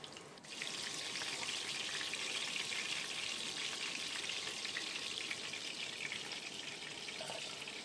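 Chicken pieces fry in hot oil with a continuous, fairly faint hiss that starts abruptly and holds steady, with no voices.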